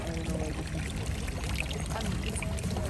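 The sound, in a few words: people filling water near Neuschwanstein Castle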